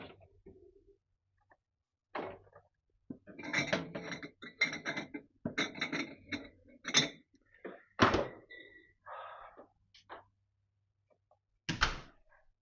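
A fridge door is opened to grab a beer, giving a string of close thunks, clicks and rattles of bottles and shelves, with a sharp thud near the end; no one speaks.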